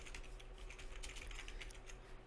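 Soft, faint keystrokes on a computer keyboard as a name is typed into a crypto-mining setup form, coming in a quick, uneven patter over a quiet hum.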